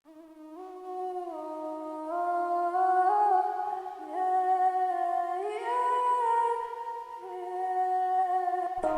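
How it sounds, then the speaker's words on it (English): Reversed harmony from a liquid drum and bass track: sustained chordal synth tones swelling in, stepping through several pitch changes with smooth rising contours, clean and alone, ending in a sudden cut. "so I reversed this harmony to sound like this."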